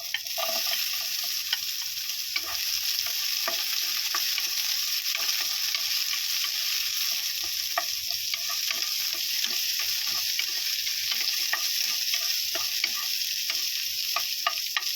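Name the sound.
onions frying in a pan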